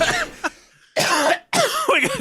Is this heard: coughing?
yes